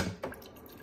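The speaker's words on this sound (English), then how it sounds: "I'm just gonna get some cold water." Cold water running from a kitchen tap, a brief splashy gush and trickle heard close and on its own, without any talking.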